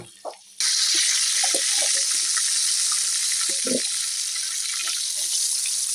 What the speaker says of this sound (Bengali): কড়াইতে দিয়ে দিলাম এখন সরিষার তেল